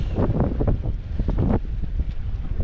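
Rough sea waves in Lamon Bay heard from aboard a small boat, a continuous loud wash of water and wind buffeting the microphone, with surging swells rising and falling throughout.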